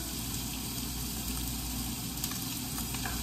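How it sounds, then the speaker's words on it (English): Steady, dense sizzling of steak frying in a hot pan, continuous and close, with no talking. "right now it's just sizzling"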